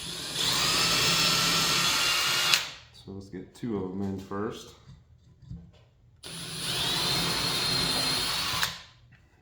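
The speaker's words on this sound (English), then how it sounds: "I can drill a hole in my wood" Two long bursts of a power drill whining steadily as it drills into wood, separated by a short spoken remark; the drilling is close and loud.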